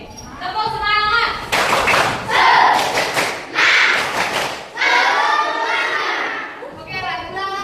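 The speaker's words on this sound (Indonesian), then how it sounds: "Tepuk semangat." A fourth-grade classroom does a rhythmic spirit clap, with bursts of loud group clapping and thumping mixed with children's chanting voices, rising and falling in short repeated phrases.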